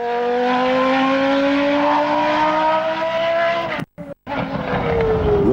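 A 1991 Williams FW14 Formula One car with a Renault V10 laps a wet track, its engine a loud, steady high-pitched howl with rising and falling harmonics, cut by two abrupt drops near the end before the scream resumes.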